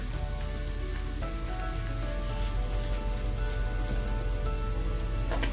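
Beef with turmeric and a tomato, ginger and garlic paste sizzles steadily in a pot, a soft continuous crackle and hiss at low volume with a few faint clinks.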